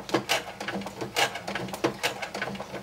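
A home sewing machine labors through thick material at a slow, uneven pace, with a short mechanical thump roughly every half second. It sounds close and plays alone, with no talking.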